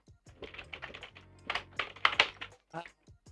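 Computer keyboard being typed on while writing code, a run of quick clicking keystrokes mixed in with a person talking nearby.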